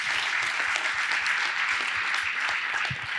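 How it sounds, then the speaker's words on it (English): A room full of people at a utility engineering conference in Texas claps steadily, the dense patter of applause holding at an even level throughout. "Maybe just a quick round of applause for Ken and the team."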